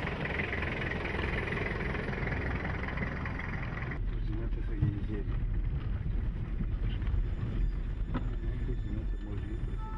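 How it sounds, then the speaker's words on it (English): A Toyota off-road vehicle's engine rumbles steadily and close, with a low continuous drone and some rattling, and no pauses. "the animals have grown used to the noise of the engine of the guide's Toyota"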